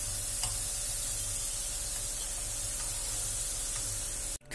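Potatoes fry in oil in a pot, giving a steady, even sizzle and hiss that runs throughout, ending in a brief clatter.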